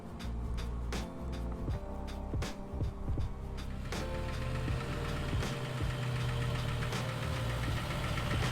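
A Barra-swapped Ford Falcon engine drones steadily and loudly while driving, with a constant low rumble and rhythmic knocking pulses throughout.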